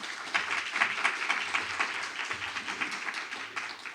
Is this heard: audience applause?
yes